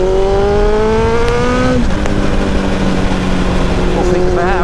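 An old Kawasaki ZX7R motorcycle engine revs up through rising exhaust notes, drops briefly on a shift and climbs again, loud and close from a helmet-mounted and exhaust-mounted microphone.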